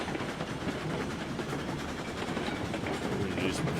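Train rolling steadily on rails in RailRoads Online, a constant rumble with faint rhythmic clatter that holds even throughout, and no pauses or speech.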